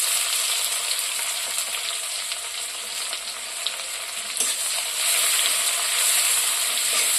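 Chopped onions frying in a pan, a loud, close, continuous sizzle that swells slightly louder toward the end, with occasional stirring scrapes.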